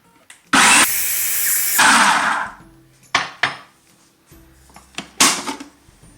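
A food processor blends vegan basil pesto in loud bursts: a long whirring run, then shorter pulses separated by quiet gaps and knocks, close and without talk.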